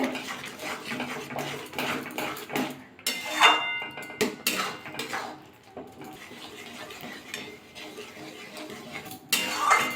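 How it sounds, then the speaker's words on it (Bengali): Semolina being mixed by hand into boiled potato and carrot in a metal bowl, with busy clattering of utensil against the dish and soft mashing scrapes running through, no voices present. "এবার অল্প অল্প করে সুজি দেবো আর মিশাবো একসাথে"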